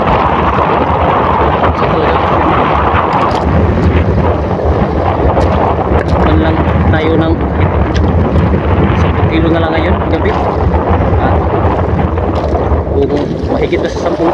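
Strong wind buffets a small fishing boat on rough water in the Camiguin Sea, a loud continuous rush of gusts and sloshing waves, with a voice briefly heard over it.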